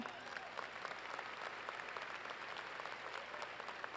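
Steady, dense applause from a crowd at a graduation ceremony, continuous and evenly loud throughout, with no talking over it.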